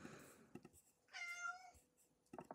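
A house cat gives one drawn-out meow, fairly close and moderately loud, with a few short thumps and a brief vocal noise just before and after it.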